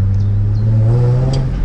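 A salvage Nissan 350Z roadster revs while driving, its engine note climbing steadily in a loud, close rumble with rising harmonics over about two seconds, no talking.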